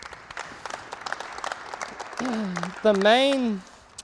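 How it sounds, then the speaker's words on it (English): Scattered applause from a group at a soccer coaching session on small-sided games, moderate and close, with a voice speaking over the clapping toward the end. "Clap them up."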